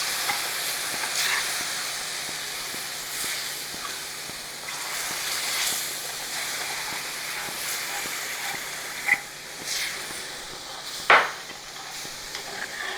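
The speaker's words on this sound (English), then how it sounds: "and stir that till it thickens" A spoon stirs milk in a pan on the stove for a spinach souffle, making a soft steady scraping and faint sizzle at low volume, with a couple of brief sharper clinks near the end.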